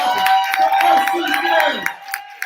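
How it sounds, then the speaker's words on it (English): Audience clapping at a poetry slam event, a steady patter of applause running through the moment alongside a voice speaking over it, tapering off toward the end. "You're already clapping."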